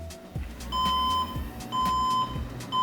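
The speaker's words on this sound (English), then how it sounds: "apparently 5 beeps is supposed to be a RAM issue" A computer that will not start sounds its POST error code, a series of clear, evenly spaced electronic beeps, each held for about half a second, repeating with short gaps, close and fairly loud.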